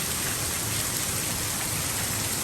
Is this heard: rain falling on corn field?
yes